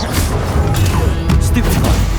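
A Confringo fire spell blast in the Hogwarts Legacy video game, a loud, dense booming crash with crackling impacts amid busy combat effects.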